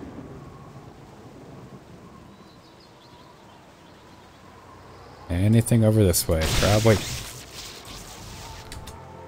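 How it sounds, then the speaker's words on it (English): Faint rain patters for several seconds before a loud, close thunderclap from a lightning strike in Baldur's Gate crashes in and rumbles with crackling, while a voice speaks briefly under the quiet stretch. "The lightning just murdered a squirrel!"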